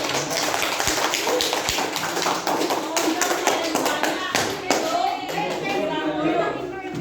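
Students in an Indonesian classroom clap during a lesson, a loose burst of taps and claps with children's voices and chatter mixed in, fairly close and continuous.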